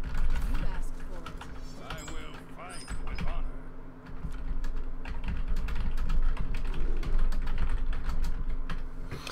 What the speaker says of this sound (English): forgive me for the typing